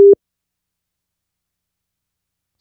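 A phone call cutting out, marked by one short mid-pitched electronic beep that stops abruptly, followed by silence.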